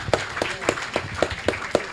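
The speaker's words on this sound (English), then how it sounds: "Big round of applause, ladies and gentlemen" Conference audience clapping at an industry-meets-academia event, with sharp, evenly spaced claps about four per second that sound like a rhythmic round of applause rather than a dense ovation.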